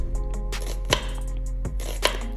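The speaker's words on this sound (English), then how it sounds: "Now when you cut the onion, don't cut all of it, only cut 3/4 like I show you here." Knife slicing through a whole onion on a cutting board, leaving a quarter uncut; a few sharp chopping strikes land near and clear, spaced out over a steady low background hum.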